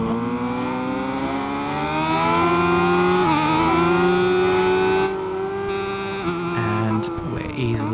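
A 1000cc naked motorcycle races in the video game Ride 5, its engine a loud sustained whine that holds high, dips under braking and climbs again.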